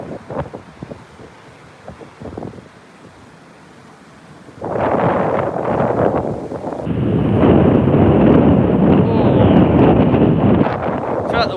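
Strong gusts of wind at an outdoor planespotting spot near Heathrow batter the microphone, rising from light buffeting to a loud, continuous rushing roar that dominates the second half, with faint voices underneath early on.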